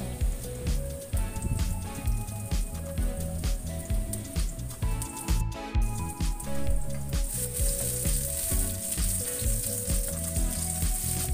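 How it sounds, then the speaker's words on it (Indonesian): Shallots sauté in a pan, a steady crackling sizzle with stirring and scraping strokes that rise and fall in loudness, close by, the hiss growing brighter toward the end, with no one speaking. "Tumis bawang merahnya sampai benar-benar harum. Ditumis-tumis terlebih dahulu ya."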